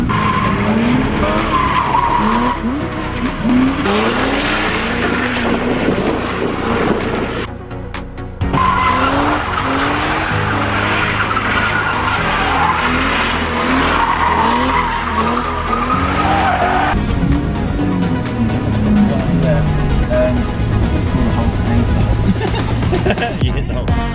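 A car drifting at Santa Pod Raceway during drift training, with loud, sustained tire squeals and skidding over a roaring engine that rises and falls continuously, close and dominant throughout.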